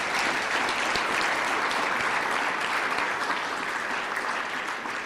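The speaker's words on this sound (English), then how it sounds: "Can you give a round of applause?" An audience at an education ministry event gives a sustained round of applause, a dense, even wash of clapping that holds steady for about five seconds before easing slightly at the end.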